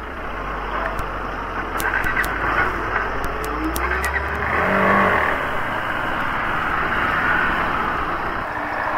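Traffic rolls past on a narrow, single-lane mountain road under construction, with a loud, continuous engine rumble that swells as a vehicle passes nearby and a few sharp clicks over it.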